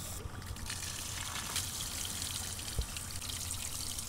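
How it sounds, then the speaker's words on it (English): Water from a garden hose pushed through a truck heater core pipe gives a steady, hissing rush and trickle, heard alone and quite faint, with one small knock near the end. "Turn the hose on and we're gonna see some water shoot out of this pipe right here."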